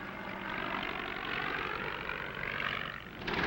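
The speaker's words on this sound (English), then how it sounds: "This little Spad carried a very powerful engine for those days" A vintage SPAD biplane with a powerful engine drones overhead, its propeller and engine roar steady and loud throughout, swelling slightly as it passes.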